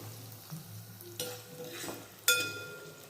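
Onions frying in a pan with occasional stirring: a steady soft sizzle runs throughout, broken by a few utensil scrapes and clinks, with one sharper metallic knock near the end, fairly close and moderately quiet, with no talking.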